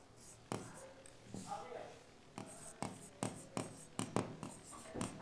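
Scratchy strokes of writing on a board during a maths lesson, a series of short, sharp taps and scrapes in uneven rhythm, close and fairly quiet, with soft voice sounds between them.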